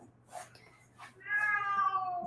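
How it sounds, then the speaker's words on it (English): A domestic cat meows several times, short calls followed by a longer drawn-out meow, close by in a quiet room. "He's like a big, big, big baby cat."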